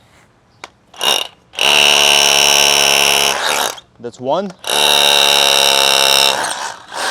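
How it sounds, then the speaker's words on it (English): Two long bursts of a loud Ryobi SDS-Plus rotary hammer drill boring into a brand new concrete block, a harsh rattling grind, with a brief spoken remark between them. "That's going through a brand new CMU block."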